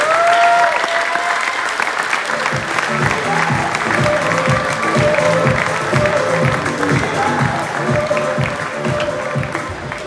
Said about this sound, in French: Merci Guy, on peut applaudir.